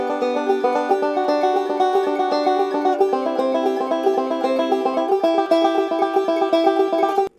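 Banjo picking a roll, reduced rhythmically in thirds with diatonic double stops: a steady, close run of bright plucked notes that continues without break for several seconds and then stops abruptly.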